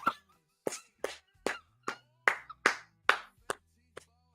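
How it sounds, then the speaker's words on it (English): A single person clapping slowly, about eleven sharp, separate claps at a loose, irregular pace, close and clear against a quiet background, trailing off softly at the end. "a round of applause to Miss K."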